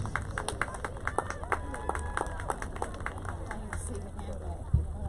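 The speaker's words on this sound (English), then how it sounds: "let's hear a round of applause for all of our 2023 homecoming court" A crowd applauds the 2023 homecoming court at a Central Penn College men's soccer match against Penn State Schuylkill, a steady patter of clapping over outdoor crowd chatter.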